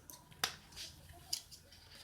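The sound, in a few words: scissors cutting A4 paper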